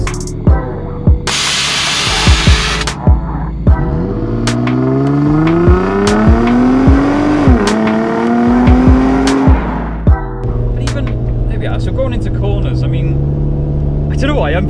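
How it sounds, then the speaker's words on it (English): A Nissan 350GT revs hard to high RPM, its engine note climbing in a long, screaming sweep that peaks and then drops away. The car is close and loud, with sharp clicks around it and people talking over the noise. "when you hit the higher RPMs, it screams"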